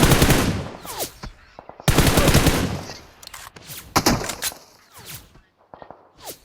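Bursts of rapid M4 rifle fire in a video game, loud and close, several automatic volleys with short gaps between them.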